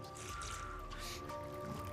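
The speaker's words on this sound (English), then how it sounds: "Drip into each of these holding containers right there" Water from a homemade filter drips and trickles into holding containers below, a quiet steady patter with small splashes, faint and close.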